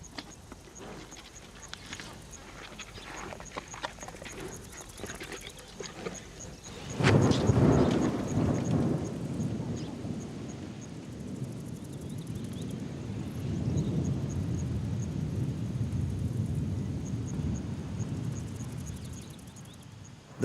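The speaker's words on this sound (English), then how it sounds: "The welcome sound of thunder. The rains have arrived at last." A deep roll of thunder heralding the rains in African elephant country breaks out midway, loud and rumbling, then fades into a long low grumble beneath steady ambient noise.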